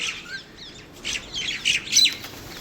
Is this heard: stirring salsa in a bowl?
no